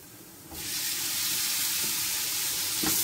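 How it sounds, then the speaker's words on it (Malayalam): Tomatoes tipped into a hot frying pan of spiced oil burst into a loud, steady sizzle that starts abruptly and holds, with a brief stir or clatter near the end. "ഇപ്പോൾ ഇനി നമുക്ക് തക്കാളി ചേർക്കാം."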